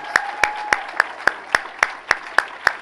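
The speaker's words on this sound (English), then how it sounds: "Please, a round of applause for the 31st annual New York Dinner Parties of Choice." Claps at a gala dinner land in an even, steady beat of about ten sharp, close hits, sounding more like a single person clapping than a full crowd, with a faint voice at the start.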